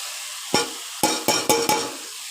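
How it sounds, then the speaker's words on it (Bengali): Elephant foot yam and prawns being stir-fried with spices in a pan, a series of five sharp scraping stirs close by over a low sizzle, with no talking. "ওলগুলো দিয়ে এবার ভালো করে কষিয়ে নেব মশলার সাথে।"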